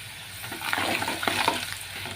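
Chili powder and salt being stirred into a coconut curry cooked with dal, a steady scraping and gentle sizzle in the pan with no talking.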